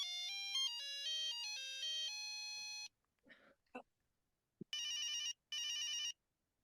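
A cell phone rings with a bright electronic melody for about three seconds, then after a brief pause with faint rustling and a click, two more loud bursts of the repeating ringtone follow, close and clear with no talk over them.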